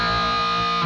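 Electric guitar snagging a two-string double stop with a pinch harmonic and no vibrato, a brief, bright, distorted squeal held steady for under a second, close and alone.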